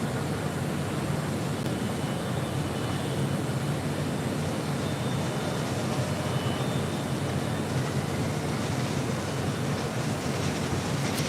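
A Delta Boeing 757-300 jet departs runway 25 right at LAX, a steady, loud broadband engine roar that holds level without a break and with no voices.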